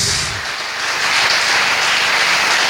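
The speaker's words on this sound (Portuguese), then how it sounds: "Você pode aplaudir o nome dele por causa disso" A church congregation applauds in dense, steady clapping that fills the space and holds on without a break, broad and loud with no distinct voices above it.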